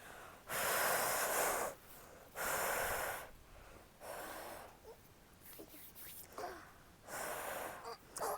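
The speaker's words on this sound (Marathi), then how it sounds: "मोठा श्वास घ्यायचा, फुंकर सोडायचं 20 वेळा." Deep breaths with forceful blown-out exhalations during a seated home workout: five or six loud, rushing puffs of breath, each about a second long, separated by short quieter pauses, close to the microphone with no talking.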